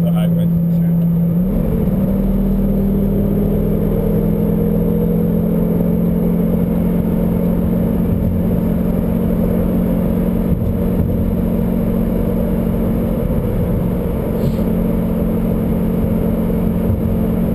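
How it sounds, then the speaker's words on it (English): A steady, low engine drone and exhaust rumble heard from inside a moving Lamborghini Gallardo, window down, echoing off concrete as it passes under a highway overpass, with constant road noise throughout. "Window down as we go under, you just hear a little bit of the exhaust off all the concrete."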